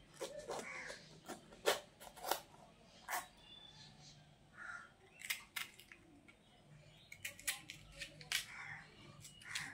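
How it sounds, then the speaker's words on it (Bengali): A knife cutting a capsicum on a chopping board in a home kitchen, giving faint irregular taps and slicing clicks in quick clusters, with quiet background sounds between the cuts. "এবার আমি ক্যাপসিকামটাকে একটু কেটে নিচ্ছি।"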